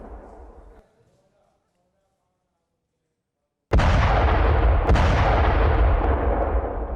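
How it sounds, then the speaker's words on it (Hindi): A loud, sudden blast from a Russian mortar gun erupts after a quiet stretch, followed by a sustained roaring rumble with a second sharp crack partway through. "रूसी मोटार गन में दिखा है जबरदस्त धमाका"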